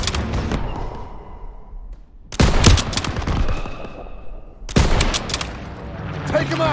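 Bursts of machine gun fire in a World War 2 video game, two loud rapid fusillades separated by a quieter stretch, close and dense with battle noise and shouting voices mixed in.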